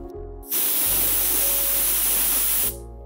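Pressure cooker whistle on a gas stove, cooking moong dal, shrieking in one loud sustained burst of hissing steam for about two seconds, with quieter kitchen background before and after.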